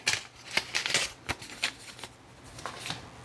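Used paper cards from a tea savings binder are handled and flicked into a box, making a string of soft, quick papery taps and riffles, close and fairly quiet.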